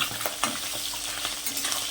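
Small tangra fish sizzle in hot mustard oil, a steady crackling fry broken by a few louder spatters and scraping stirs as the pieces are turned over.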